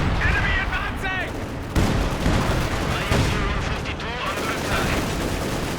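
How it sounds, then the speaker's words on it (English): Dense battlefield gunfire in Company of Heroes 2, with rattling machine guns and booming artillery blasts layered continuously throughout, loud and busy with a voice talking over the combat. "lots of machine guns are being directed against him in the Panzerwerfers. And lots of artillery just flying everywhere"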